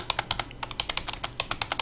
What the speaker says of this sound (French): Je note ça vite fait sur mon petit iPad avec son clavier.